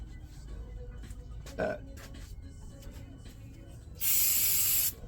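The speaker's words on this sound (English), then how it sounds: "Brake cleaner." Brake cleaner sprayed onto a Komatsu control valve: a single loud, steady aerosol hiss lasting about a second, standing out near the end of a quieter stretch with background noise and some speech.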